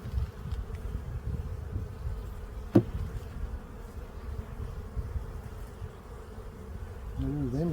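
Honey bees buzzing steadily around a hive frame during a spring inspection, a continuous close drone with one brief knock partway through and no talk.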